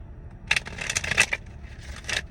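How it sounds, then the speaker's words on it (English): A deck of tarot cards is shuffled close up during a reading: a few quick riffling, papery bursts with short pauses between them, quiet and with no talk. "One more shuffle."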